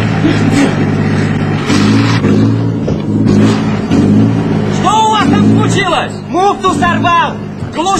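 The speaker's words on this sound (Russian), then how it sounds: "Гасите двигатель!" Car engine revving loudly in a tense scene from a 1983 Soviet drama film, the sustained motor drone running throughout under overlapping shouting voices and crowd babble.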